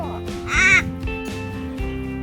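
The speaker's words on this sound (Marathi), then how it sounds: "एका आदिवासी कुटुंबाकडं असणारा कावळा चक्क माणसासारखं बोलतोय" A crow caws loudly once, followed by a few softer calls against a faint background hum.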